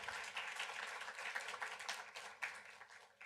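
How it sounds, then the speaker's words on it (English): An audience at a college campus STEM event applauds, a dense, fairly distant patter of clapping that carries on steadily without speech. "Let's give David a round of applause."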